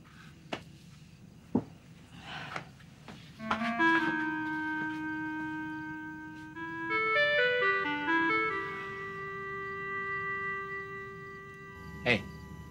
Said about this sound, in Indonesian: Kamu dengar nggak itu? Tukang putu.